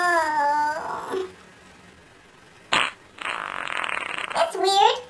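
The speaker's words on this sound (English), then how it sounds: "Did you just fart?" A cartoon fart sound, heard in an animated pig story, rasps out as a sustained buzzy blast, framed by brief whiny cartoon voices before and after with a quiet gap and a sharp click between.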